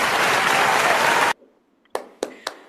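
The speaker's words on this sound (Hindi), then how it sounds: "सबके लिए जोरदार तालियां हो जाए।" Loud sustained audience applause at a plant-based product event ends abruptly after about a second and a half, followed by a few sharp isolated claps in the quiet.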